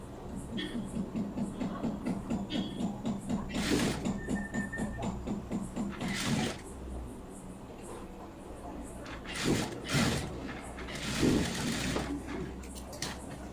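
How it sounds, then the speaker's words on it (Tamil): Sewing machine stitches along the cross piece of a blouse in a fast, even rhythmic run for several seconds, then stops, followed by scattered handling noises and fabric rustles. "இப்போ கிராஸ் பீஸில் மட்டும் தையல் விழற மாதிரி நம்ம வந்து தையல் போட்டுக்கிட்டு வர்றோம்"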